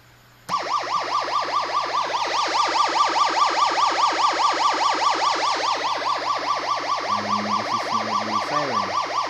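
A homemade electronic siren generator built in the Philippines sounds a police-style wail, a rapid repeating up-and-down warble that runs loud and steady, with a brief lower pulsing tone joining near the end; no one speaks.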